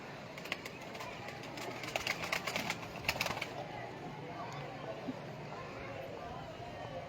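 Pigeons offered for sale coo softly in the background, a low, steady murmur sitting under someone talking close by.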